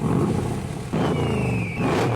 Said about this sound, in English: you've got to just listen to this thing start up, and I'm going to give you a few revs as well